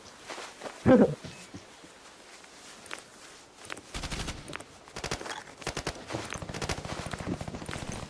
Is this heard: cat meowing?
no